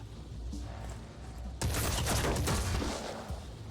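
A burst of weapons fire erupts from the video game Phoenix Point over a steady game background, a dense, loud volley that continues for about two seconds without speech.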